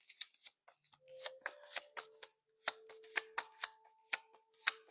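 Tarot cards are shuffled and pulled from the deck in a quiet room, a run of crisp riffling snaps and flicks in quick uneven bursts, close and fairly soft.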